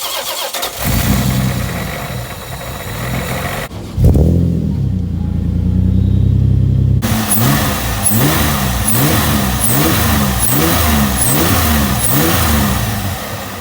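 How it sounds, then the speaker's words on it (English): A supercharged Toyota Solara engine cranks and catches on a test start, then settles into a loud, close, steady running note with a rhythmic pulsing throb. "We're just gonna do a little test start."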